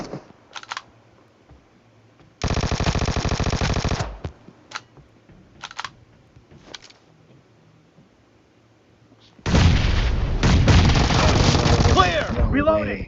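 Bursts of automatic fire from UZI and Vector submachine guns in a PUBG team deathmatch, with two long loud sprays separated by short clicks and quiet gaps, and faint voice chat in between.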